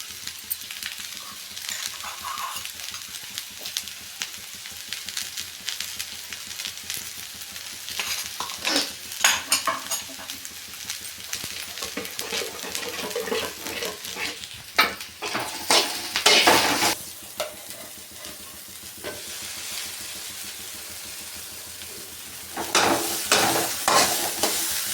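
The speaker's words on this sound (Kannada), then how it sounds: "ಉರಿಲೇನೆ ಇದನ್ನು ಫ್ರೈ ಮಾಡ್ಕೊಬೇಕು." Moringa leaves fry in a pan with a continuous hiss, broken by bursts of stirring and scraping and a few metallic clinks of a spatula against the pan, close and fairly loud, no speech.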